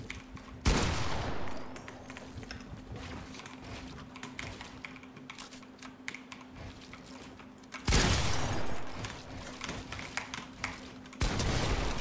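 Video game gunfire breaks out in three sharp bursts spread across the stretch, while a faint steady tone and scattered soft clicking run quietly underneath.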